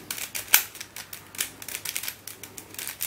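An old speed cube turns quickly, showing corner cutting, in a run of close, sharp plastic clicks and clacks, with one louder snap early on and no speech.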